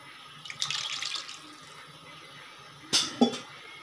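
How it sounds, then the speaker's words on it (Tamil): Water poured into a pan of tamarind fish curry in a home kitchen, a soft splashing pour early on and a brief louder splash near the end, fairly faint against room noise. "இப்போ தண்ணி சேர்த்துக்கலாம்"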